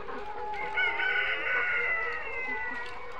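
Layer hens about 132 days old on a poultry farm cluck and crow steadily, a dense, close chorus of several birds continuing without pause and with no talking.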